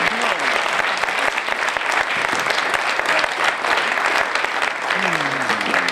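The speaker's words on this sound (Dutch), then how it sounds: "Een groot applaus alsjeblieft voor prinses Laurentien en Jan Jutte." Studio audience applauding Princess Laurentien and Jan Jutte on a Dutch talk show, dense loud clapping that fills the room steadily for several seconds.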